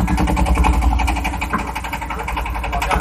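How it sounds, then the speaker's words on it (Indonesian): A motorboat engine chugs steadily while crossing a lake, a low throbbing drone with a rapid mechanical patter, close and continuous, no speech. "Kami naik armada perahu motor dari Parita Pusri"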